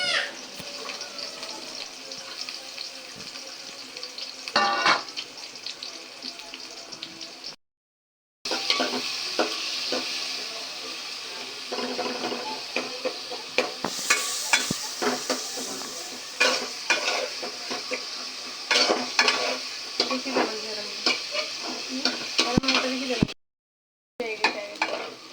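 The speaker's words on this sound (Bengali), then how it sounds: "এখন পেঁয়াজটা ভেজে নেওয়া হবে।" Onions fry for a chicken and potato curry, a steady close sizzle with frequent clattering stirs and scrapes in the pan, two short silent gaps interrupting the cooking.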